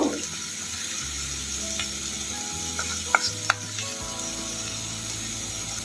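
An eggplant masala with chili powder and turmeric sizzles in a pan under a steady frying hiss, with a few sharp scrapes and taps of a spoon as it is stirred.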